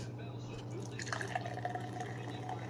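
Mountain Dew Thrashed Apple soda, warm at room temperature, pours into a Los Angeles Chargers glass, a steady trickling fill with light dripping under a low constant background hum.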